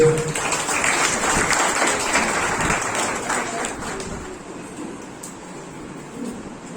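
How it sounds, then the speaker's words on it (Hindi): Congregation applause at a church conference in Lucknow: loud, dense clapping fills the hall at first, then gradually thins and fades toward the end. "उन सभी का स्वागत करते हैं जोरदार तालियों से"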